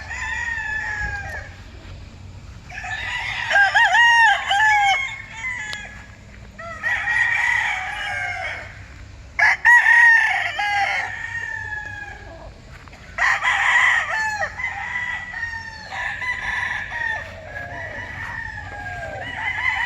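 On a clean farm, roosters crow again and again in long calls, some near and some farther off, with hens clucking between them over a quiet low hum.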